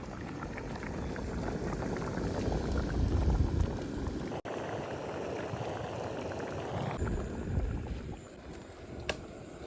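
Chicken pulusu curry simmers in a pot with a steady, dense bubbling hiss, close and continuous, broken once by a brief sharp knock.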